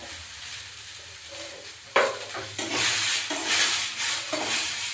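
Vegetables frying in a pan while cooking dalia, a steady sizzle broken by scraping stir strokes that grow louder and more frequent after a sharp clatter partway through.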